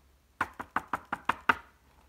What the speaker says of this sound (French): qui frappe encore à la porte?